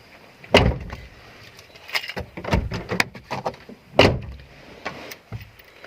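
Doors of a black 2011 Suzuki Splash car handled up close as someone climbs inside: several sharp thuds and clicks spaced irregularly, with two louder slams standing out, and no talking.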